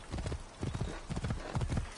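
Horse hooves clip-clop in Assassin's Creed Origins, a steady rhythmic series of close, fairly loud hoofbeats in bursts, with a faint voice underneath.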